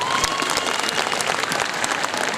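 An audience at a school annual function claps loudly for a children's performance, giving a close, crackling burst of applause with sharp individual claps, sustained for a couple of seconds without talk.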